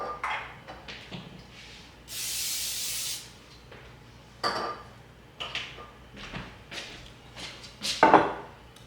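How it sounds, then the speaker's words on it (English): Cooking spray hisses onto a baking pan in one sustained burst of about a second, surrounded by soft clatter and handling noises of the pan and can. "Now we're gonna spray our baking pan of choice."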